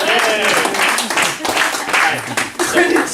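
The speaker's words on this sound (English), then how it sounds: "Give him a big Round of applause, give him a round of applause." A room of people breaks into loud, continuous applause for someone called to the front at a psychology clinic session, with voices and cheering mixed into the clapping.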